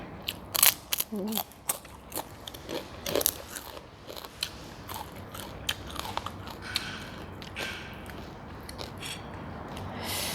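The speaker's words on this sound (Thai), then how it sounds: "ปลาแห้งกินกับส้มตำสุดยอดเลย" Crunchy dried fish is bitten and chewed alongside papaya salad, a series of sharp close crunches and crackles early on settling into softer chewing, with a voice speaking briefly between bites.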